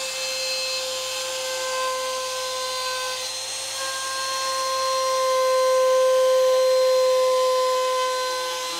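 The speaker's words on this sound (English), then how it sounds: "What I'm using is my router with an 1/8 inch roundover bit." A router fitted with a 1/8 inch roundover bit rounding the edges of a wooden ring display, a continuous high whine that swells louder toward the end as the bit bites into the wood.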